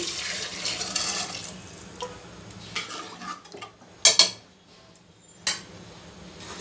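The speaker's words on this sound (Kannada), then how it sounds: "ಈಗ ನೀರು ಸೇರಿಸ್ತೀನಿ" Water rushes into a pot of washed lentils for a couple of seconds, followed by quieter moments and a few sharp metallic clinks of utensils against cookware.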